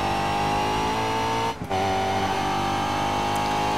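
Race car engine from the DTM Race Driver 3 racing game holds a steady high-pitched drone with layered harmonics, dipping briefly mid-way before resuming at constant pitch, loud and continuous with no talk.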